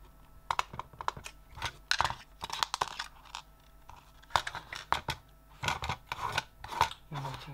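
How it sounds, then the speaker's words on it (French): Small screws being worked out of a Nintendo Switch Pro controller during a joystick replacement, heard as a busy run of sharp, close clicks, scrapes and plastic ticks with brief pauses, some faint voice underneath. "on va retirer les deux vis"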